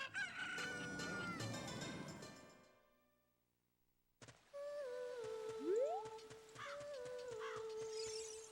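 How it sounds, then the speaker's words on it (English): A rooster crows in The Legend of Zelda: Ocarina of Time. A burst of game sound effects and music fades to near silence, and then the game resumes with a clear crowing call over chiming in-game tones. "you need a freaking chicken"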